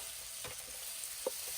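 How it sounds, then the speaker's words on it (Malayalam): Mustard seeds, curry leaves and dried chillies sizzle in hot coconut oil with a steady, close frying hiss and a couple of small pops. "അപ്പോൾ നമുക്ക് കടുക് ഇട്ട് കുറച്ച് നമുക്ക് അധികം കരിവേപ്പില ഇട്ട് കൊടുക്കണം."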